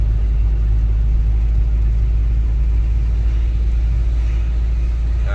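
Car exhaust rumbles steadily from inside the cabin while driving in the rain with the rear windows cracked, a loud, constant low drone layered with broadband hiss from rain and road, with no talking.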